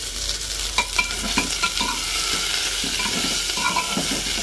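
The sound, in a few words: onions frying and being stirred in a pan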